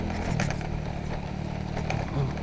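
A motorcycle engine hums steadily while riding a rough, rocky trail, with rattles and clatters from the bumpy ground breaking through at intervals, and a brief voice in the background.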